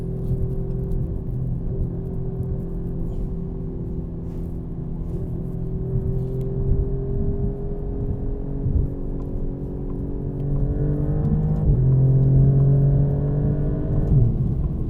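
Alfa Romeo Giulia QV engine on a cold-weather drive, a steady close cabin drone with rising tones as revs climb, swelling louder near the end.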